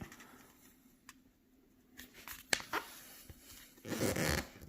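A sheet of paper, held upright in portrait orientation, is folded exactly in half, giving a few soft close-up rustles and then a louder, crisp crease-and-crinkle near the end, with no talking.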